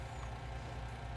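A truck's air brake is set in Farming Simulator 19, a steady low engine rumble carrying a faint hiss of released air through the short moment.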